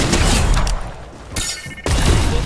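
Shotgun fire in a Fortnite zone wars match, heavy loud blasts and booming impacts, with a brief quieter gap between dense bursts of combat noise.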